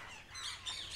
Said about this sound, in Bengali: আর এরা সুন্দর করে ডাক দেয়, ম্যাকাও পাখি